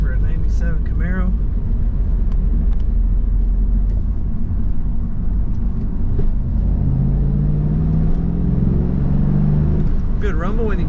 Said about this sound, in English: Good rumble when you get on that throttle